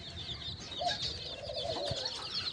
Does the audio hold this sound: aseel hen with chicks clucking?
yes